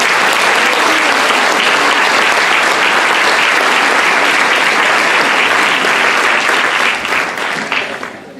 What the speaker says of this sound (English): A round of applause for the Silver Award winners.